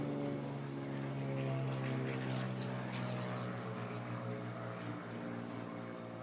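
A propeller race plane roars past at the 2021 Stihl Reno Air Races, a loud, sustained droning engine buzz with a rich low hum that slowly shifts as it flies by.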